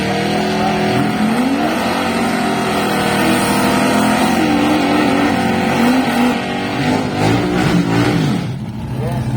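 A 1969 Plymouth Valiant drag car at a round 6 qualifying session, its engine roaring loud and steady with a high sustained tone that wavers and drops away near the end, with faint commentary underneath.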